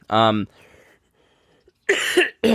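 A short throat clearing followed by a cough, close and loud, separated by a quiet pause.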